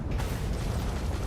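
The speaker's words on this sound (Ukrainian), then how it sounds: "О, чисто така дуже швидкострільна гармата в нього," Rapid-firing ship cannon in the space game Starfield, a dense continuous rumble of booming bursts blending into one another, loud and close, with no talk over it.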